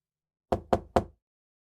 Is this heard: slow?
yes